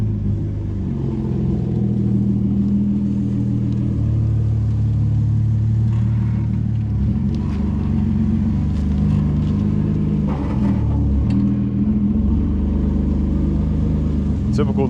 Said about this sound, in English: Typical noises of a static car.